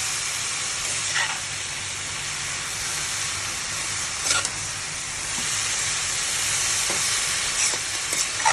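Leafy greens fry in a tempered pan with a steady, dense sizzling hiss close by, with a few faint stirring scrapes along the way.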